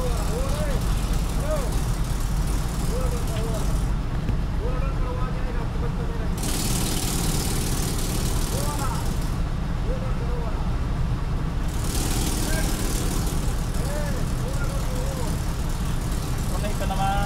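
A Mercedes truck diesel engine runs at a steady idle during an injector and cylinder diagnosis, a continuous low rumble with a faint whining hiss that comes and goes, while someone talks nearby.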